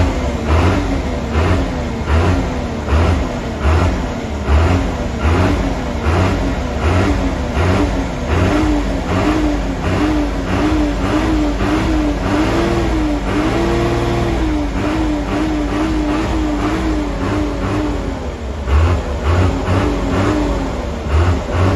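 Steady, loud engine running close by on a rebuilt Iseki tractor with new gaskets, revved with a throttle, holding a continuous throbbing chug for about twenty seconds without talk.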